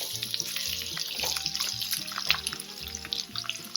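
Raw mango pieces drop into hot spiced oil with fenugreek seeds, setting off a hissing, watery sizzle that surges and continues over background music.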